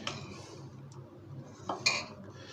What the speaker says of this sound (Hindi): इनको मैं अच्छी तरह मिक्स करूँगा ताकि ये सारे के सारा जो है कोट हो जाए इनके ऊपर